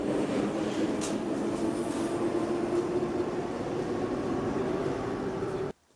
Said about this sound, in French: Et des vidéos de train, métro, RER.